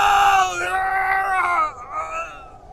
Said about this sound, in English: Thomas screams in pain and then loses consciousness.